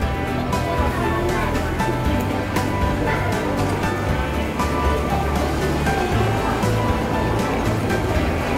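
Waves wash and churn around a boat at sea, a loud continuous rushing roar with a low rumble, likely engine, beneath it and faint voices in the background.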